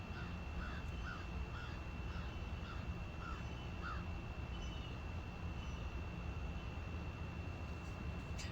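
A crow caws outdoors in a quiet setting, several short, evenly spaced calls early on over a soft, steady low rumble of background noise, then the calls stop.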